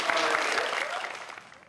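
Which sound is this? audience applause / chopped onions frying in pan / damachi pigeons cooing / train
audience applause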